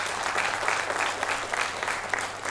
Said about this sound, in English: I think we need to give this a big applause because it's a big change.